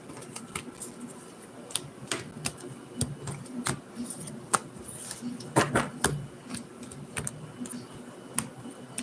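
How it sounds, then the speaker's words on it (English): Irregular crisp taps and riffling snaps of tarot cards being shuffled, coming in quick bursts close to the microphone over a quiet background. "I'm going to go ahead and start shuffling again."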